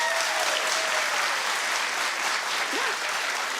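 A television talk show studio audience claps loudly and continuously, a dense, even roar of applause close up with brief vocal whoops rising above it.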